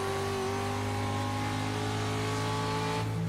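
A Pro Truck off-road racing truck at Iowa RX powers out of a corner, its engine drone steady and loud with strong harmonic whine, continuous for the whole stretch with no talk.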